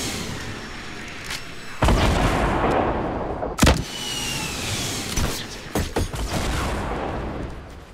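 Rockets launching and blasting in a competitive shooter game, several sharp broadband booms at irregular intervals over constant loud engine-like rumble and gunfire noise.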